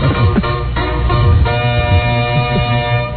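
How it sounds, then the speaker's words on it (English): Busy, bandlimited arcade game audio from Donkey Kong, with a rhythmic stepping pattern and bright electronic tones running continuously, as the ape climbs to the top, loud and dense throughout. "That's the sound of the ape working his way up to the top."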